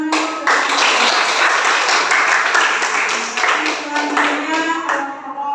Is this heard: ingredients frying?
no